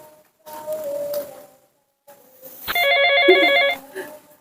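A telephone rings with a bright electronic trill, preceded by faint ambient sounds and a brief pause, then a close, loud burst lasting about a second.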